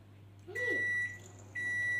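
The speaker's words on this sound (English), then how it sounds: "Our microwave is ready." A home microwave oven signals it has finished with two clear electronic beeps, the first about half a second long and the second starting a moment later and holding to the end, over a low steady hum.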